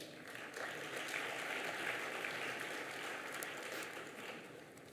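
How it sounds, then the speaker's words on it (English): Audience at a charity gala dinner breaks into a steady round of applause, dense clapping swelling after the first half second and holding evenly, moderately loud from a crowd in a large room, no speech over it. "So give yourself a huge round of applause."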